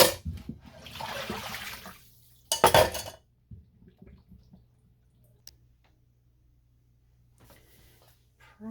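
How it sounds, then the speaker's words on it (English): Boiled potatoes being drained from a pot: a rush of pouring water, then a sharp metallic clatter of the pot, followed by small scattered clinks and long near-silence. "let's drain these potatoes"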